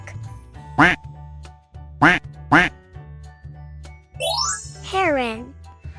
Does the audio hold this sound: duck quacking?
yes